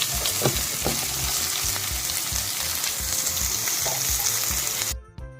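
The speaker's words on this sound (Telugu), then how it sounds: "ఒక 2 పచ్చిమిర్చి, ఇవి కూడా కొంచెం వేగితే చాలు." Green chilies sizzle and fry in hot oil in a pan while the cook prepares okra fry, a steady close crackle with soft repeated stirring thuds, cutting off abruptly near the end.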